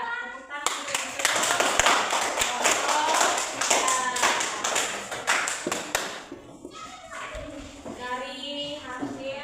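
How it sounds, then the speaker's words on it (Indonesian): A classroom of students breaks into sustained clapping after a presentation, dense and steady for several seconds before thinning out, followed by a few scattered claps under children's chatter. "tepuk tangan dulu untuk"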